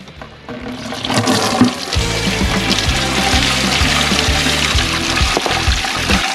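Coolant drains from the radiator of a 2004 Buick LeSabre into a bucket, a steady continuous gush of liquid that runs close and loud throughout, without pauses.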